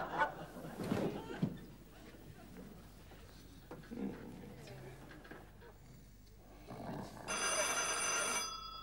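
A telephone bell rings near the end of a German comedy sketch, bright and metallic, following muffled voices and room noise.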